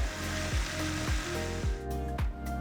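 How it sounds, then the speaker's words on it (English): A mixer grinder blends curd and salt, whirring loudly and steadily up close, with a repeating pulse as the contents churn in the jar; no talking. "To this, I'm adding 1 teaspoon of salt and we're going to blend everything together"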